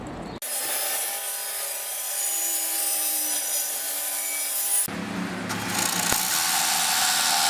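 A saw rips along hardwood boards in a long steady run, then stops briefly and starts a second cut. The rasping wood-cutting noise is loud and close, with no voices.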